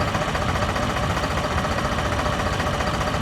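A Holland 3630 tractor engine idles close by, a steady low rumbling chug that holds constant throughout.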